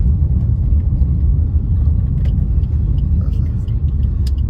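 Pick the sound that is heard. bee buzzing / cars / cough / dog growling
cars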